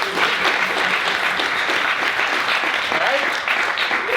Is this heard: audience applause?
yes